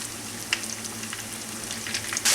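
Langoustine pieces frying in hot oil until golden, a steady close sizzle with a few sharper crackles and pops, no voices.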